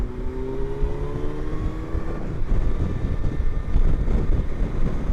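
A Kawasaki Versys LT 1000 motorcycle is ridden over harsh bumps on a ramp, its engine droning steadily beneath heavy wind buffeting and low thumping rumble, close to the rider throughout.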